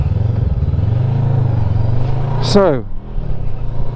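A Voge 500DS adventure motorcycle engine runs during a ride, a steady throbbing drone with a quick rising shift near the middle, heard under a voice.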